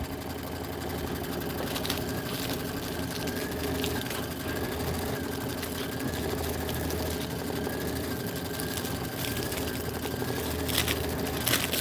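A sewing machine hums and clatters continuously as it stitches out an embellishment design on quilt filler blocks, a steady mechanical whir heard close up.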